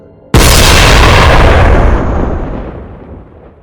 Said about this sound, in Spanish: La policía oyó un disparo en la casa de Chillingast